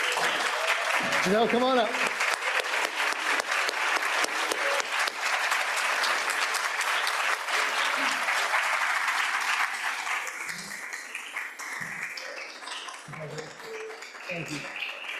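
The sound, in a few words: applause for speech contest winner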